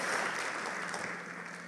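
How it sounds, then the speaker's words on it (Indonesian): A church congregation applauds, a dense, steady wash of clapping that holds briefly and tapers slightly toward the end. "Kasih tepuk tangan yang paling meriah buat Allah kita."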